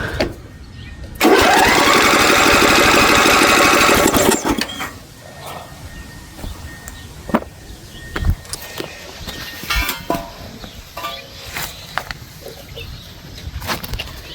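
A lawn mower engine with a fault is cranked over, giving a loud whirring, buzzing burst of about three seconds near the start. Scattered clicks and handling noises follow, with no clear firing.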